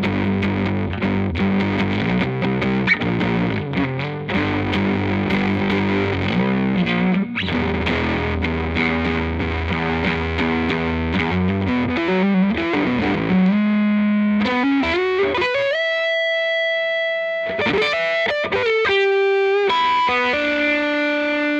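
Violin played through a Bunnel Heavy Metal pedal with the distortion turned up, producing a thick, saturated, sustained tone with chorus-like shimmer, loud and continuous, thinning to cleaner held notes and short phrases near the end.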